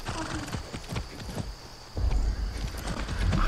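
Horse hooves clop in a steady rhythm, with a short whinny, as a horse is ridden through water in the Far Cry 6 video game; the hoofbeats stay close and fairly loud, and the lower rumble swells in the second half.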